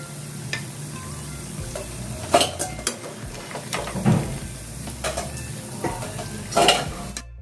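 Challa punugulu, buttermilk batter fritters, frying in hot oil with a steady sizzle, punctuated by several stirring and scooping clinks of a ladle against the pan.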